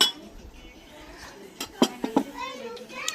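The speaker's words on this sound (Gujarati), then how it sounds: "વાસણ બધા ધોવાઈ ગયા છે. તો હવે છે ને બધા મૂકવાની તૈયારી છે." Freshly washed dishes being stacked away in a home kitchen, with a few sharp clinks of pots and utensils knocking together near the middle and a voice talking nearby.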